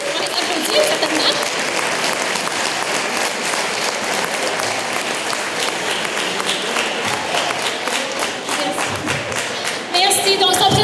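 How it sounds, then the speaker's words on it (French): An audience applauds volunteers at an evening event: dense, sustained clapping from a crowd, fairly loud and close, running for several seconds, with voices audible underneath and a few thuds near the end. "Oui, on les applaudit, certainement."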